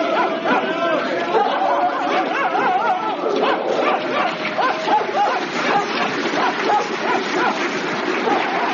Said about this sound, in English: why are the dogs jumping straight into the river and swimming across?